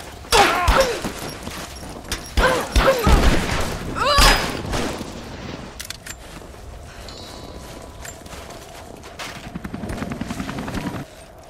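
A helicopter in the game Rise of the Tomb Raider thrums as a low, pulsing rumble, with loud bursts of gunfire and impacts early on that fade into the steady engine drone.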